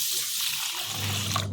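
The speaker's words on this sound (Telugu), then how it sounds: "2 సార్లు వాటర్ పోసి మంచిగా కడిగి" Water running and swishing as rice is washed in a pot, a steady close splashing and trickling flow that ends abruptly.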